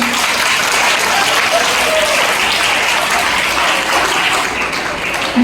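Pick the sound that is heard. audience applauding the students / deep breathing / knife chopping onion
audience applauding the students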